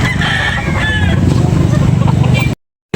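A rooster crows loudly up close amid noisy background chatter at a rooster market in Carbon, Cebu, then the sound cuts off abruptly near the end.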